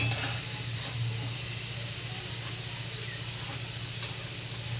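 Potatoes fried red in hot oil, a steady close sizzle and hiss running continuously, with a faint clink near the end as they are lifted out.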